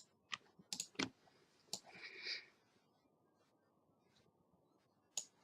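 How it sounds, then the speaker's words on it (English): Scattered keystrokes on a computer keyboard, a few quick clicks in a short burst, then a pause and one more tap; quiet and close, with no talking. "we can go ahead and type in tracking number"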